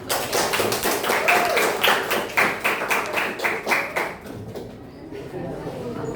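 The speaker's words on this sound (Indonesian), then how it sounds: "Ya, tepuk tangan untuk" A classroom guidance session breaks into clapping, with sharp, rhythmic claps in a steady beat for about four seconds that then fade into quieter room sound, with voices heard beneath.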